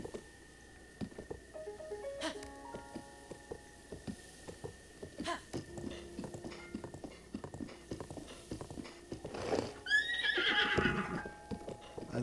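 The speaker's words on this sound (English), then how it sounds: "I think I might accidentally kill Zelda's horse here" A horse in Zelda: Breath of the Wild whinnies and neighs with a few hoof clops, mostly alone, with a louder burst of neighing near the end over soft game ambience.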